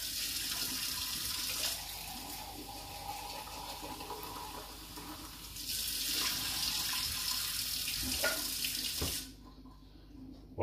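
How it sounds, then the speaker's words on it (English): Kitchen tap water runs steadily over tinned kidney beans being rinsed in a sink, a continuous close splashing stream that briefly swells, then cuts off near the end, leaving quiet. "Tap off a second. Just rinse that last bit."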